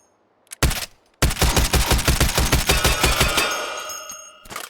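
An ASh-12 bullpup rifle chambered in 12.7x55 mm fires a couple of sharp shots, then a long rapid burst of heavy, closely spaced reports, loud and close, ending in a ringing decay.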